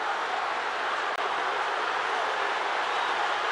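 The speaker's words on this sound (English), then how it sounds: "A massive crowd getting in behind their team." Huge rugby stadium crowd in a South African derby, Stormers against Sharks, roaring steadily behind the home team as a continuous, loud wash of cheering noise.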